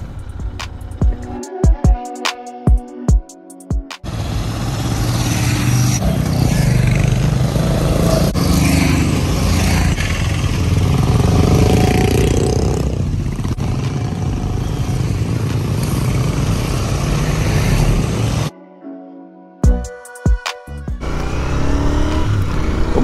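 A group of motorbikes roars away on a Sunday morning ride, engines droning loud and close for about fifteen seconds before cutting out, with a few sharp bursts and more engine noise on either side.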